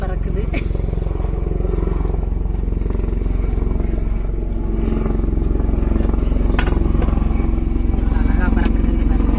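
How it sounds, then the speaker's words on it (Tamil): A helicopter flies over a village while food is being cooked outdoors, its low, steady droning hum running through the whole stretch beneath nearby voices. "எங்க ஊர் சைடு ஒரு ஹெலிகாப்டர் பறக்குது."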